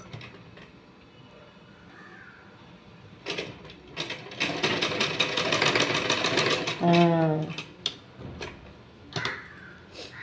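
A sewing machine stitches fabric during a tailoring class, with bursts of rapid mechanical stitching separated by pauses, close and fairly loud, alongside brief handling noises.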